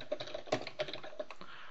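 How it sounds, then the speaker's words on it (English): Computer keyboard typing while working in an Excel spreadsheet, a quick run of light, crisp key clicks in an uneven rhythm, close and fairly quiet. "I'm just using the keyboard to select that."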